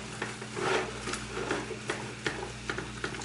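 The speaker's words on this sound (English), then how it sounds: "I also use my spatula to bit up the meat a bit more, get into smaller pieces." Spatula scraping and chopping ground meat into smaller pieces in a hot pan, soft irregular scrapes and taps over a continuous low sizzle, close by with no talking.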